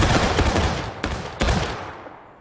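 A company's musket volley in an American Civil War video game event, loud broadband gunfire with two sharp crashing volleys standing out over continuous rolling shots, then fading away.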